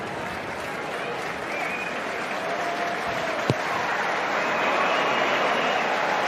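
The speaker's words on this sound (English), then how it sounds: "Tom Cairns is well applauded" A crowd at the Exeter v Saracens rugby match applauds steadily, a broad wash of clapping that swells slightly and holds throughout, heard from the stands at a moderate distance with a single sharp knock partway through.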